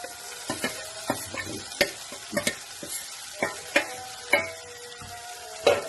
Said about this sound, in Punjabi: ਹੁਣ ਆਪਾਂ ਇਹਦੇ ਵਿੱਚੋਂ ਕਰੇਲੇ ਪਾ ਦੇਵਾਂਗੇ